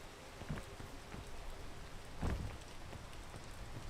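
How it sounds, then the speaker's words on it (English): Rain pours down in a video game as a soft, continuous hiss, with a couple of heavier patters or low thumps breaking through the steady downpour and no one speaking. "it is not a good idea to climb while it's raining"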